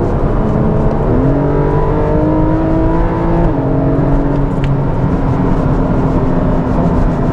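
A Porsche 718 Boxster GTS 4.0 accelerates hard from inside the cabin, its engine note climbing steadily as revs rise, with an upshift partway through and then a sustained loud drone. No one talks over it.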